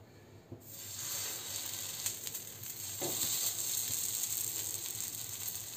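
Makhana aloo tikki fries in desi ghee on a hot tawa, giving a steady close sizzle and crackle throughout with a few soft scrapes and taps, no voices.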